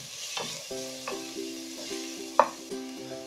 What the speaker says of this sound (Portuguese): Primeiramente eu vou colocar a cebola. Cebola e o alho. Vamos deixar assim dourar a cebola um pouco.